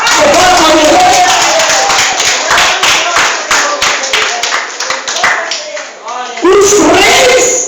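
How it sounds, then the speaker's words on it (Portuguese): A church congregation breaks into sustained, loud applause, dense clapping filling the space for several seconds before briefly thinning and swelling again, with voices mixed into the crowd. "Você pode aplaudir a Jesus?"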